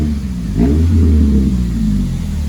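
A Honda Civic FN2 Type R with a newly fitted exhaust revs up once, a loud, close, steady engine note with a slight swell partway through, heard alone.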